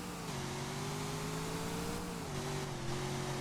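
Custom engine note of a stripped-down drift car in a video game, a steady, loud mid-pitched drone that rises slightly and then settles, running continuously without talk.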